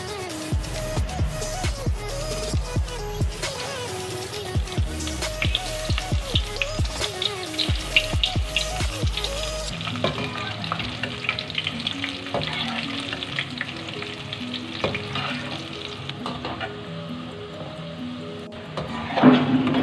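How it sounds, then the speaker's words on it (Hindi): Eggplant pakoras frying in hot oil, a bubbling sizzle with frequent clinks and stirring scrapes early on, then a steadier, softer frying hiss carrying on alone to the end. "अब हम इसको फ्राई करते हैं। ऑयल हमारा गर्म हो चुका है।"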